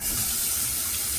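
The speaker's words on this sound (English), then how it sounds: "Get this tub rinsed." Running water rinsing a tub, a brief steady rush of flow, close and fairly loud, with no talking.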